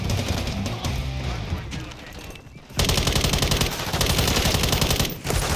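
Rapid automatic gunfire from a Call of Duty Modern Warfare III multiplayer match, loud dense bursts that drop out briefly near the middle and then return harder, with short gaps between volleys.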